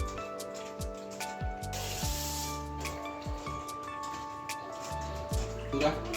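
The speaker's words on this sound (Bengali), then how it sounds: "মাংসটা একটু ভালো করে ধুয়ে নিচ্ছি" Chicken meat being washed under a running tap, a steady hiss of flowing water with splashing and occasional handling noises, close and continuous, mixed with some faint background tones.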